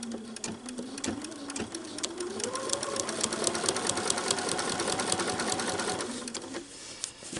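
Sewing machine stitching binding on a festive advent calendar quilt project, running steadily and close for about six seconds with a fast, even needle clatter, then slowing to a stop.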